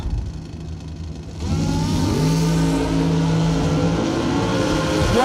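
A drag racing motorcycle launches down the track at a Christmas bash event, its engine rising in a loud, sustained revving roar that swells after about a second and a half and holds steady to the end.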